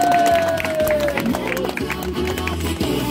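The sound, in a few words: applause from a birthday party crowd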